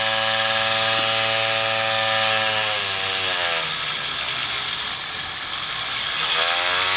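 A Merkaba coil pulse motor's rotor spins with a steady loud whine and buzz whose tones shift in pitch as the speed changes, continuous and close, with no voices.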